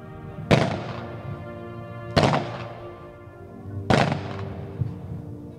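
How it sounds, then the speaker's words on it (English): A memorial rifle volley at a Run for the Fallen ceremony in New Hampshire: three sharp, loud shots spaced about two seconds apart, each with a short echoing tail, outdoors and without talk. "I'd now like to fire the volley"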